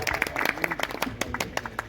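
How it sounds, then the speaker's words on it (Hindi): Audience clapping to welcome a poet at a mushaira, brisk irregular hand claps for a couple of seconds, moderately loud and close. "जोरदार तालियों से इस्तकबाल करें जनाब आकिब शाह साहब।"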